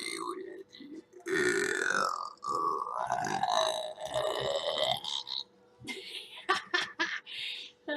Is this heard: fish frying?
no